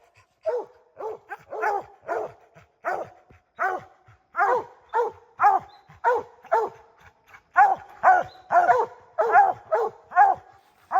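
A string of loud, close hunting dog barks in quick succession, several dogs treeing a bear and yapping together in a steady rhythm with brief gaps.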